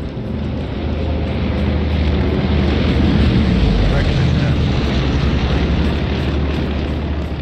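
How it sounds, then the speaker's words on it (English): An airplane passing overhead in the World War II shooter Hell Let Loose, a loud, steady, broad engine roar that fills the whole stretch without letup, heard over constant battlefield rumble. "Plane, I guess."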